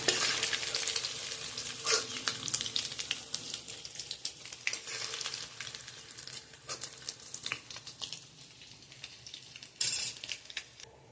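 Chicken pieces frying in hot oil in a home kitchen, with a steady close sizzle broken by scraping stirs and utensil clinks as pieces are lifted out, with a louder clatter near the end.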